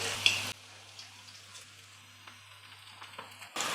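Wheat flour snack frying in hot oil on a lowered stove flame, a soft steady sizzle with scattered small pops, fairly faint and close, with no talking.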